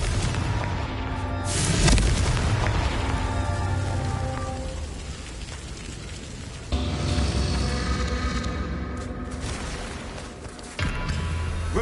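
Confringo fire spell blasts in Hogwarts Legacy, two booming explosions about five seconds apart, each followed by a rumbling, crackling tail under a busy game soundscape.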